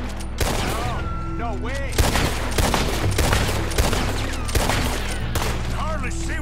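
A nighttime gunfight in the video game Red Dead Redemption II, with loud, rapid volleys of rifle and pistol shots cracking close by while voices shout over the shooting.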